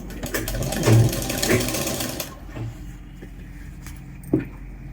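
A sewing machine stitches a churidar in a steady run for about two seconds, then stops, leaving a faint hum and a small knock.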